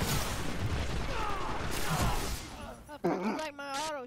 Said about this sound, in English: You like my auto shotgun